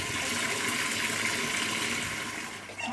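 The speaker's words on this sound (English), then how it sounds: "Not a bad view from which to do your washing up" Running water splashing steadily while dishes are washed up in a camper van sink, a close, continuous gush lasting a few seconds.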